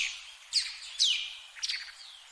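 Birds chirp in a few sweeping, high-pitched calls, spaced about half a second apart against a quiet, open background.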